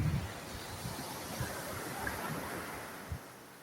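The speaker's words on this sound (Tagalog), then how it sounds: "Dagat sa Hinundayan." Sea waves wash in at Hinundayan beach in Leyte, a continuous surf roar with soft rumbling surges and some wind buffeting on the microphone.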